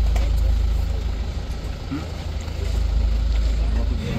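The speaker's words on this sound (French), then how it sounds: "c'est un catamaran qui a un moteur quand même" A catamaran's engine drones steadily throughout at sea in French Polynesia, loud and close, with a constant rumbling hum and faint hiss on top.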